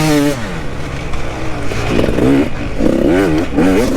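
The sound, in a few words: KTM 65 motorcycle engine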